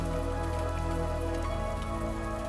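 Steady cartoon rain pours down in a village scene, a dense, unbroken hiss of drops on surfaces, loud and close throughout with no voices.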